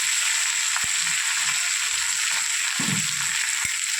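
Onions and curry leaves fry in hot oil for fish puttu, a steady broadband sizzle running throughout with a few faint clicks and a soft stir-scrape near the middle.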